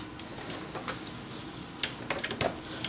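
A sewing machine backstitches while shirring fabric for a smock top, giving a steady close mechanical whir with faint ticking clicks and a few sharper taps near the end.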